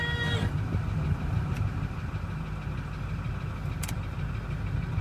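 A 2008 Ford F-350 flatbed with a 6.4 Powerstroke diesel idles steadily with a low, even rumble, close by, interrupted by a couple of brief clicks.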